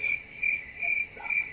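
A crickets chirping sound effect plays as steady, evenly spaced bursts of high trilling, moderately loud and alone.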